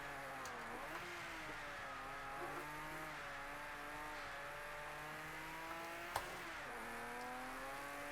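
Droning Porsche Can-Am racing car engine in Project CARS 2, steady harmonic whine, pitch shifting slightly as it revs and settles, with faint muffled tone and a sharp click midway.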